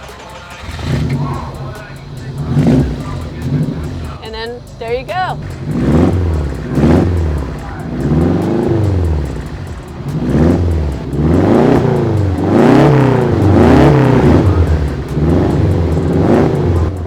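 A Porsche 906 race car at a historic racing event starts up and idles while warming, its engine droning loud and close with rhythmic revs rising and falling, while someone talks briefly over it.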